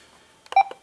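A short electronic beep from a Kenwood TM-V71A radio transceiver's menu, a couple of quick tones close up in an otherwise quiet room.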